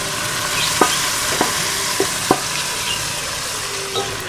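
Pressure-cooked meat sizzles steadily in a hot pan while a utensil scrapes and taps against it every half second or so.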